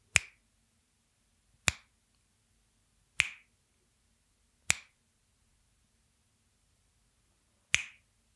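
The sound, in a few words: finger snapping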